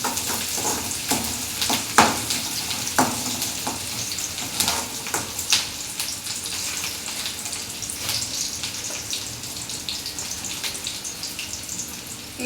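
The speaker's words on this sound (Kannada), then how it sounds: "ಎಣ್ಣೆ ಸುಡಿಯಾಕೈತಿ ಮುಖಕ್ಕೆ" Hot oil sizzling and frying in a pan while making egg rice, with a steady crackling hiss punctuated by sharp pops and splatters.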